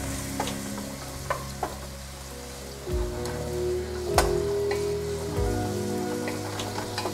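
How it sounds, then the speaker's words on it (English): Red onion sizzles in a pot for delicata squash soup, a steady close frying hiss with occasional pops and the scrape of stirring, no voices. "So I'm going to put my red, my beautiful red onion in the soup."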